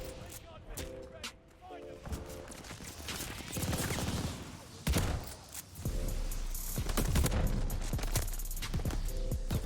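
Combat shotgun gunfire in a first-person video game, repeated loud blasts and mechanical racking across the stretch, with a player talking over the action.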